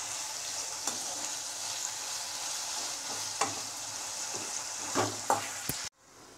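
Onions sautéing in a pan for a chow chow milk kootu, a steady close sizzle with occasional scraping clicks of stirring, cutting off abruptly near the end, with no talking.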